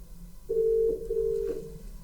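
Softphone test call on a PC ringing through, two short steady electronic ringback tones a moment apart, faint and alone over quiet background.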